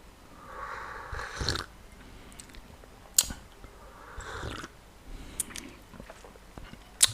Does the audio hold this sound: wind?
no